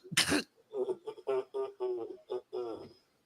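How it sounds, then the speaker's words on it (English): One sharp, loud throat clearing opens the clip, followed by someone talking in a podcast conversation. "I had to clear my throat."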